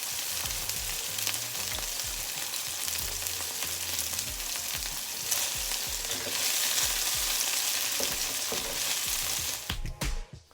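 Chopped onions frying in a pan give a steady, close sizzle, broken by repeated scraping and clacking strokes of a spatula turning them, ending in a sharp clatter.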